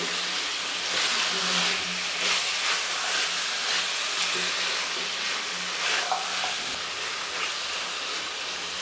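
Potatoes and radish frying in a pan with steady sizzling and hissing, broken by repeated scraping strokes of a spoon stirring them.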